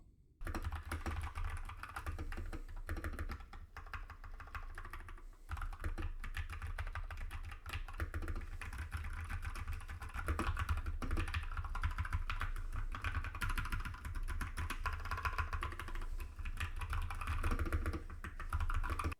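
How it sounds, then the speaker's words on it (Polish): Continuous fast typing on a Genesis Thor 404 TKL mechanical keyboard with Kailh Box Brown V2 switches, a dense close clatter of keystrokes lasting throughout with no speech. "Klawiatura testowa to oczywiście Genesis Tor 404 TKL na brązowych przełącznikach Kalebox Brown V2."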